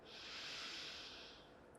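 A slow, soft inhalation through the nose during a yoga session, a faint breathy hiss swelling and fading alone.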